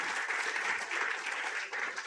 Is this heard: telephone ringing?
no